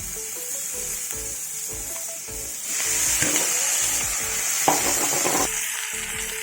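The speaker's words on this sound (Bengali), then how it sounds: "এখন মাছ ভাজা হচ্ছে" Fish frying in hot oil gives a steady, close sizzling hiss throughout, growing louder and denser midway, with a few faint scrapes and clinks of utensils in the pan.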